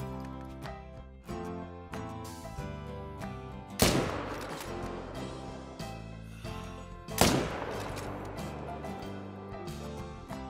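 Two sharp, loud hunting rifle shots several seconds apart in theHunter: Call of the Wild, each with a ringing tail, over a backdrop of steady game music.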